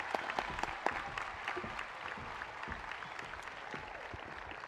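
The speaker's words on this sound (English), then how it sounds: "let's give those young ladies another round of applause" Audience applause at a 2021 East View High School graduation ceremony after student speeches, steady dense clapping from a large crowd throughout, fairly distant, with faint voices mixed in.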